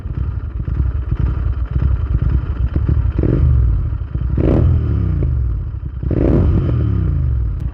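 A Royal Enfield GT 650 motorcycle, its silencer thought to be holed, thumps loudly up close with a rough, uneven exhaust beat, clattering pops and a couple of sharp revving surges.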